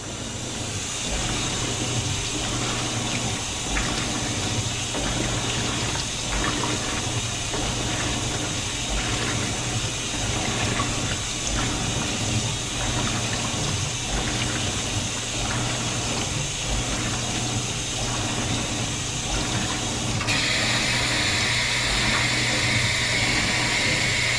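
A Maytag top-load washer fills with water during the fill-and-soak stage of a quick wash cycle: a continuous rushing, splashing stream with a low pump hum that grows brighter and louder near the end.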